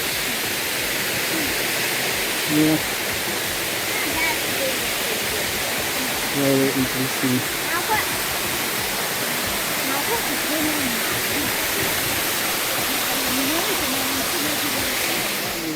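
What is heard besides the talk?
Krushunsky waterfall in Bulgaria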